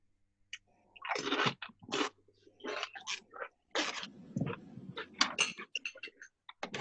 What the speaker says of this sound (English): who's crunching?